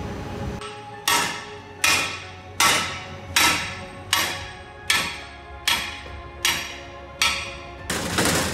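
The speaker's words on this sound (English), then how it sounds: "Find a bigger hammer." Heavy metallic hammer blows on a 402 small-block Chevy engine block ring out at a steady pace, about ten strikes in a row, each loud and close with a ringing decay.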